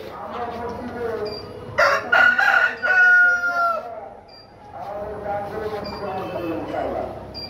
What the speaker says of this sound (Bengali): দেখেন, এটা অরিজিনাল টাইগার মুরগির প্যারেন্টস।